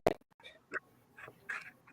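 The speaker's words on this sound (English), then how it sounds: "It's geese." Several geese call from outside a window, a loud sharp honk at the start followed by scattered fainter, nasal calls at irregular intervals, heard alone without talk.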